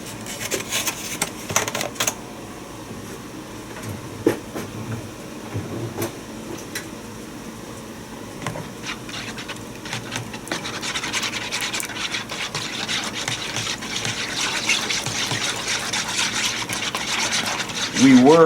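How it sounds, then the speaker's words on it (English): Two cups of milk and one egg being whisked together for a fried-chicken wash: a steady, close scraping and stirring that runs throughout with a few sharper clicks, and a voice may briefly speak. "Going to whisk it all together, make sure it's all blended well."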